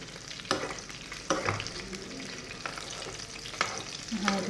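Bourek pastry frying in hot oil, a steady close crackling sizzle with a few sharp clinks and scrapes of a utensil against the pan.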